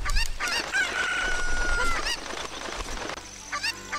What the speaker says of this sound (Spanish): A ver, gallina, tranquila.